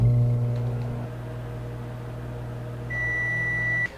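A microwave oven cooking porridge hums steadily with a low electrical drone, then a single long high-pitched beep sounds near the end before it stops.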